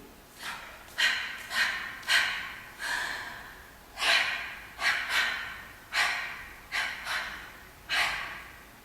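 Heavy rhythmic breaths, about a dozen sharp exhales spaced roughly every half second to second, fill a flash mob dance routine rehearsal, close and loud with no talk.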